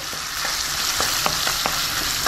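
Onion and potatoes sizzle steadily in a hot pan, with several sharp scraping stirs of a spatula spaced through the frying; no one talks.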